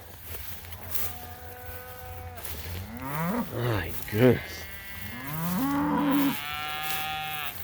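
Cattle lowing in a fall stockpile pasture with a bull present, several long drawn-out moos from nearby animals, some overlapping, with a brief voice spoken among them.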